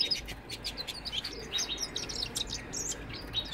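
A male canary sings a continuous run of high, bright chirps and trills, fairly close and steady, over a low background hum.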